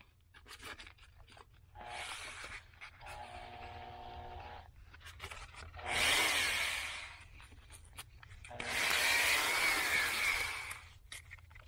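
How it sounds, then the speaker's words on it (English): Sandpaper wrapped around a slit old bolt, spun by a power tool to polish rough hole-saw holes in a scrap-metal slip roller, rises into several whirring, rasping bursts separated by quieter gaps. "I just cut a slit in an old bolt, and then I'll just wrap some sandpaper around it"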